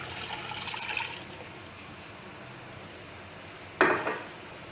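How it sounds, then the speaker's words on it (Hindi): Half a litre of water poured into a mutton handi pot already holding garlic, salt and whole garam masala, a short splashing gush near the end after a quiet stretch of faint kitchen noise. "अब इसमें ½ लीटर पानी ऐड करेंगे।"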